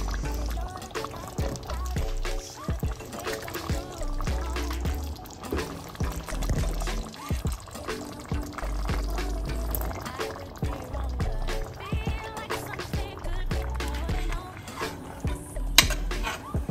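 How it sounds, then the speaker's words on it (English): Beans poured into a pot of simmering tomato chilli, with steady liquid pouring and stirring sounds, occasional clinks of a utensil against the pot, and a low background hum throughout. "now we're ready to add in the beans"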